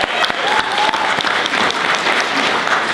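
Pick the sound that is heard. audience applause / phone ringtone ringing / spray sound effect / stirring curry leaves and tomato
audience applause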